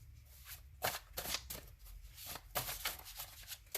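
Tarot cards are shuffled in quick, soft riffling bursts, a close, papery flutter that repeats irregularly and stays fairly quiet throughout.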